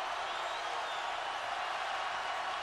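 A Kansas home crowd at a 2013 NCAA first-round basketball game against Western Kentucky, a dense, steady arena roar of cheering, loud and unbroken throughout.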